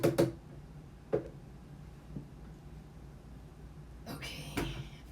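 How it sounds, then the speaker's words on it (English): A kitchen drawer is pulled open with a couple of sharp wooden knocks and slides, then quiet rustling, ending in a rattling clatter of the drawer and its contents; no talking. "just kind of open a drawer and pull out what I needed right there"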